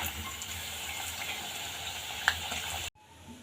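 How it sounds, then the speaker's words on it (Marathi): Batti dough balls for Khandesh-style varan-batti fry in hot oil, giving a steady close sizzle and bubbling that carries on without a break, with one brief sharp pop near the end before the sound cuts away. "आता आपण ते पलटी करून दुसऱ्या बाजूने पण व्यवस्थित फ्राय करून घेऊया पूर्ण गोल्डन होसपर्यंत ते फ्राय करून घ्यायचे आहे"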